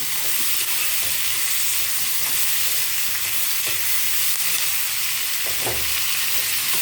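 Onions and tomatoes fry in a pan with a loud, dense, continuous sizzle, broken by occasional scrapes and taps of a stirring spoon, heard up close without any voices.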